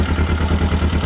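A Laverda Formula 650 motorcycle, partly air- and water-cooled, idling close by with a steady low, even rhythmic thrum and slight mechanical clatter.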